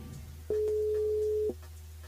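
A single steady telephone ring tone about one second long sounds over a faint low hum while a phone call to a radio show listener is being placed.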